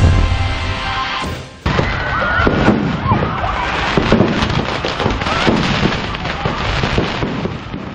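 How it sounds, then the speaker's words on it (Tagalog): Loud, dense crackling and popping of fireworks going off in rapid succession at a plaza fireworks display, misfiring into the watching crowd, with a siren-like whine and crowd noise mixed in. "Imbis kasi na sa ere, bumulusok ang fireworks sa mga nanonood."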